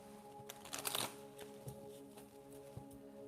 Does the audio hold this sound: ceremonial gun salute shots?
no